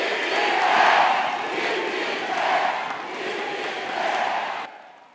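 Crowd cheering at a political party speech venue, a loud swelling roar of many voices rising and falling in waves before cutting off abruptly near the end.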